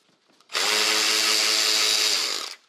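A power tool whirs loud and close for about two seconds, spinning out 10 millimeter bolts holding a car's washer reservoir under the hood of a bugeye WRX, with an abrupt start and stop.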